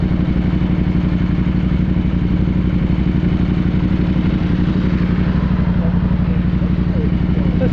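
A motorcycle engine runs steadily and loudly close by, just after crossing a river in Nayarit, Mexico, with some water in its exhaust. Its rumble continues unbroken as a person talks over it.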